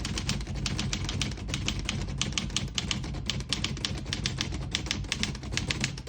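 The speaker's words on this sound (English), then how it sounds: "I'll type a sentence on the next line." A 1971 Olivetti Lettera 32 portable typewriter is typed on in a fast, steady run of crisp mechanical key strikes, close and loud, with no voices.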